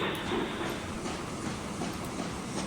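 A train running in Transport Fever 2, a steady, even rumble with soft rail clatter, heard alone at moderate loudness throughout.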